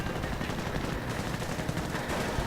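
Machine gun fire from an MG team garrisoned in a medic bunker during a large Company of Heroes battle, dense continuous gunfire and explosions filling the whole stretch at close range.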